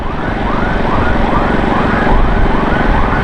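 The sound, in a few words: fire brigade truck siren passing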